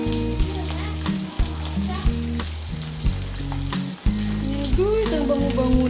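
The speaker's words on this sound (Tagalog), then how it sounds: "Luto na natin ang ating tuyo na binili sa tindahan kanina." Dried fish (tuyo) sizzles steadily in a small amount of hot oil, a loud, close crackling fry with a few sharp pops, and no one speaks over it.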